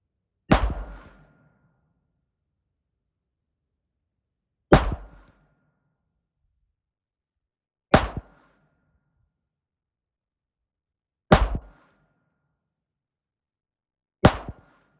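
Ruger Mark IV Hunter pistol firing cheap ammunition outdoors, five sharp, loud single shots spaced several seconds apart, each with a brief decaying ring and silence between.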